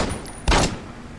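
A single loud gunshot burst rings out in Saints Row, a short sharp crack with a brief tail, standing alone without talk.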